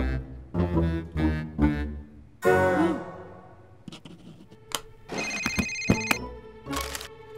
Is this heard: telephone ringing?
yes